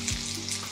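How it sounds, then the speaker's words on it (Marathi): Cumin seeds hitting hot oil in a pan give off a steady, close sizzle with a brief louder burst at the start, lasting under a second. "तेल इथे गरम केलेलं आहे, यामध्ये घालूयात जिरं."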